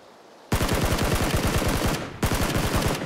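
Rapid automatic gunfire in the battle game PUBG, loud and close, a sustained burst of rattling shots, a brief pause, then a second burst.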